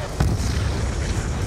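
A grenade explosion in Call of Duty Black Ops 2 bursts with a sharp crack, then gives way to a sustained, heavy rumble of battle noise that fills the short moment.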